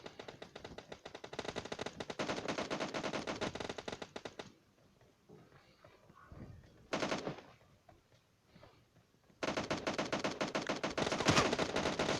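Rapid automatic gunfire from a video game, loud sustained bursts for about four seconds, a short burst in the middle, then another long stretch of continuous firing after a quiet gap.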